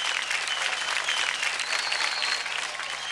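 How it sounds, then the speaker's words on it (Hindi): Loud, sustained applause from a large audience, a dense, even roar of clapping held at full strength throughout with no talk over it. "एक बार जोरदार तालियां हो जाए बॉस प्लीज."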